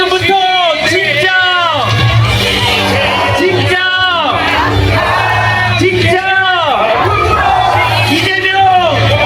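At a Busan presidential campaign rally, a large outdoor crowd shouts and chants together in loud, rhythmic unison, with repeated swelling calls filling the whole clip.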